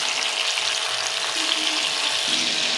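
Mutton pieces hit hot oil in a pot with ginger, garlic and crushed chilli for a korma, giving a loud, steady, broadband frying sizzle that holds for the whole stretch with no talk.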